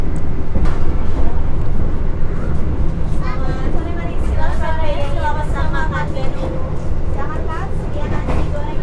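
Tegal Bahari New Generation passenger train running, a steady low rumble and rattle of the carriage heard from inside, with faint squeals partway through and a voice speaking over the ride.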